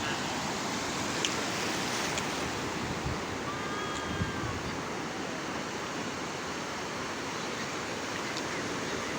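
Sea waves washing onto the shore in a continuous, broadband rush with gentle surges, mixed with some wind buffeting the microphone; no voices.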